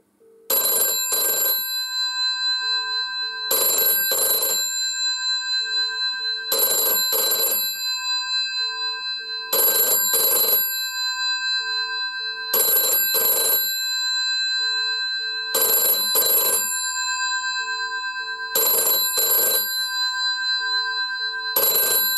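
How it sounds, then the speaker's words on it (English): A 1971 GPO 746F two-tone green telephone rings for an incoming call, its bell sounding loud and near in steady repeated double bursts with short pauses between. "that's a classic GPO ring"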